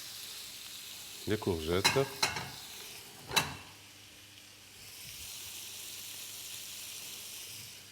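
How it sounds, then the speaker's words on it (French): Carrot and zucchini sautéing and being stirred in a pan, with a brief burst of scraping and clatter followed by a soft, steady sizzle, while a voice speaks briefly early on. "Un peu de sel de table, du poivre noir et on fait sauter les légumes"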